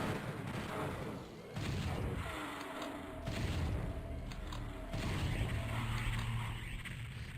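In the video game Doom 64 a Mancubus fires at the player, producing loud booming blasts and mechanical clanks over a dense, continuous game soundscape of rumbling and creaking effects.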